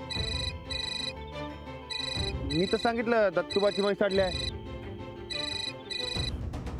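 An electronic phone ringtone chimes in repeating bursts, briefly interrupted while someone talks over it.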